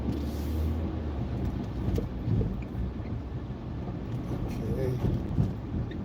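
A car drives through the streets of Detroit, its engine and road rumble forming a steady low drone with wind buffeting, continuous and fairly close throughout.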